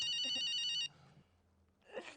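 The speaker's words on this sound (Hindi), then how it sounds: "फोन बज रहा है।" Telephone bell ringing loudly with a steady repeating trill for most of a second, then cutting off, leaving a quiet room hum before a soft rustle.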